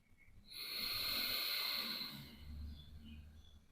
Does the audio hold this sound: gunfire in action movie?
no